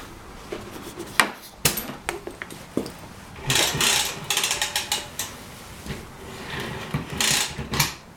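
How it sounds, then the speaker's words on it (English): An air ratchet loosening the two shock absorber bolts under a 1998 Chevy S10 Blazer: short bursts of rapid mechanical rattling and clicks with metallic knocks, separated by brief pauses, close and fairly loud. "What I'm going to do is take an air ratchet, and I'm going to undo those two bolts that are holding it on"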